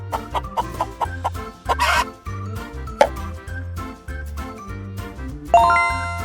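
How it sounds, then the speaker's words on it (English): Cartoon chicken clucks for a children's farm animal lesson, mixed with bouncy plops and chiming jingles, ending on a bright sustained ding. "Can you guess which animal these eggs belong to? Aha! It's a chicken!"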